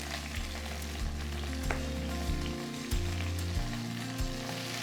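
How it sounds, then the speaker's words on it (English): Ginger and spring onion frying in oil in a pan for braised pork belly, a loud continuous sizzle with a regular rhythm of bumps and clinks running alone throughout. "ginger and spring onion into the oil"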